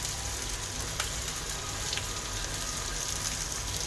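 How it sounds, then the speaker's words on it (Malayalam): Cabbage and half a capsicum sauté in a pan for vegetable fried rice, giving a steady, dense, rain-like hiss of sizzling that runs unbroken and fairly loud throughout. "ഇതിൻ്റെ നന്നായി വഴറ്റി കൊടുക്കുക"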